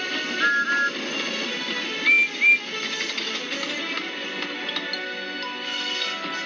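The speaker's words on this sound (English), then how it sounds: ""Beep, beep," whistled Percy." Percy the small tank engine gives a couple of short, bright whistle toots over a soft steady background, the blasts close and clear.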